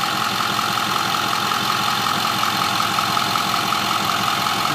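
2009 Ford F350 Super Crew diesel 4x4 pickup engine idling warm at operating temperature, a steady close rumble with an even clatter and no change throughout.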